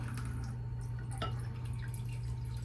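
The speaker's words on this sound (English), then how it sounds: "So I'm going to put some water in my bowl" Water is poured into a bowl for soaking facial sponges, giving soft splashes and drips over a steady low hum. There is one brief louder drop near the middle.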